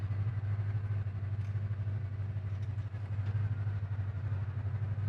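A 1957 Chevrolet Bel Air engine idles at about 800 RPM, a steady, close, low rumbling drone with even pulsing and no voices over it.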